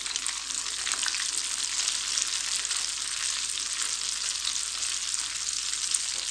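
Pieces of chicken for a zinger burger frying in hot ghee over low heat, giving a dense, steady, close sizzle that stays even and unbroken throughout with no voices.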